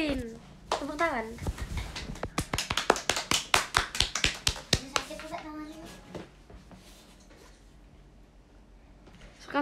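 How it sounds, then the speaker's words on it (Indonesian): Children's clapping at a live-streamed prank award, a fast burst of sharp, close hand claps in the middle, with kids talking before it and a quieter stretch after. "Semuanya tepuk tangan."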